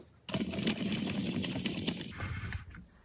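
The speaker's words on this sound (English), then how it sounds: "I'm just going to keep the presser foot lined up with the edge of the fabric. And I'm just doing runner stitch." A sewing machine runs a straight running stitch along the edge of a fabric piece for a giant scrunchie, a steady close motor whir with needle chatter that starts abruptly and fades at the end.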